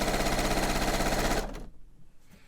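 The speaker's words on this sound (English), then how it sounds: "I'm going to let my fabric just lead into the presser foot" Sewing machine stitching folded fabric through the presser foot for an envelope pillow cover, a loud fast continuous needle rattle that stops abruptly partway, leaving a quiet room with faint handling noises.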